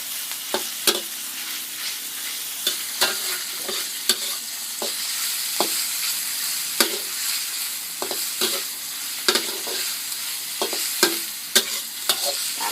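Pork stir-frying in a pan with a steady sizzle, punctuated by repeated sharp scrapes and knocks of a spatula stirring the meat, close and fairly loud with no voices.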